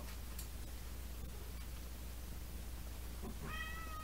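A short, faint meow from a cat near the end, rising over a steady low hum and hiss.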